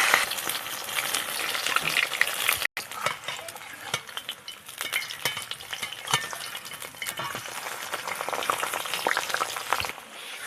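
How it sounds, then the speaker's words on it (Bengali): Lentil fritters with Malabar spinach leaves deep-frying in hot oil in a wok, a steady close sizzle with scattered clinks of utensils and occasional stirring, no voices. "এই বন্ধুরা হয়ে গেছে বড়াগুলো দেখো লাল লাল করে ভেজে নিয়েছি"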